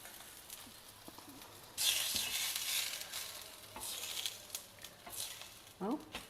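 A methi adai dosa sizzles on a hot pan, with faint crackling that swells into a louder hissing burst, then fades back to soft sizzling with brief scrapes.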